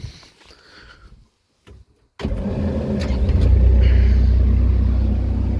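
Avant 530 compact loader running a hydraulic bush cutter, with blades not yet fixed, starting up: a few quiet knocks, then an abrupt onset into a loud, steady low rumble that builds and holds close by.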